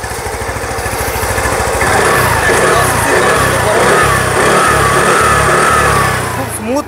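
A used TVS Jupiter 110cc scooter engine idles with a steady low putter, then is revved up and held at a higher, louder drone before easing off, close by at a bike dealer.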